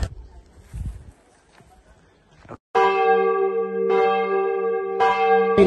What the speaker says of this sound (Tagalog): Kanina pa tayo nakatayo dito habang nagtutugtog ng kampana.